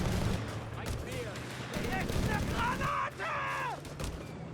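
Rapid G43 semi-automatic rifle fire from Jaeger infantry in a Company of Heroes 3 battle, sharp shots crackling in a dense stream amid other gunfire and bursts, fairly loud throughout with a voice talking over it.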